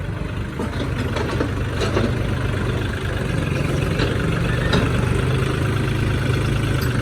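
A Kubota L40 farm tractor idles close by, its steady low engine rumble running without a break with a few light knocks and rattles on top, and no one speaking.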